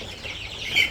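Chickens cluck softly in a netted enclosure, a brief faint bird sound over low background noise that rises slightly at the end.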